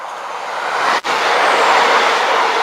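A Class 156 diesel unit, 156430, bound for Sleaford, roars past close by at Hykeham station level crossing in Lincolnshire. The loud, continuous rush breaks for an instant, then carries on at full strength.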